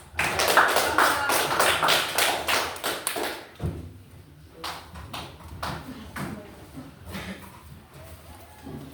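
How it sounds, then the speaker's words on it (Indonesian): Applause in a classroom, a group of people clapping in a steady rapid patter that fades into scattered claps toward the end. "Beri aplaus."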